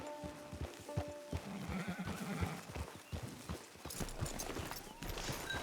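A horse whinnies and clip-clops in the video game Red Dead Redemption Online, the hooves thudding in an uneven rhythm beneath a neigh and other game sounds.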